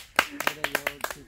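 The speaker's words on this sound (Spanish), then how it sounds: "¡Aplauso!" A few people clapping for a surprise, about seven distinct hand claps in an uneven rhythm, close and fairly faint, layered with voices talking.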